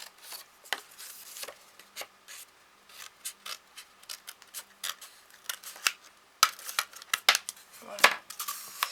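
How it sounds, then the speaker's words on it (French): Scissors snip away excess paper around a cardboard roll in a rapid series of short, crisp cuts, close and fairly loud, some clustered in quick bursts with brief pauses between. "je découpe juste ce qu'il y a en trop"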